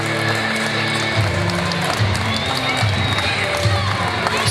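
Crowd cheering and shouting at an ICW vs Chaos tag team wrestling match, a steady roar of a full arena with swelling surges of yelling and clapping throughout.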